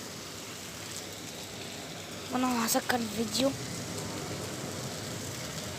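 Rain falls in Kuwait as a steady, even hiss, and someone speaks briefly partway through.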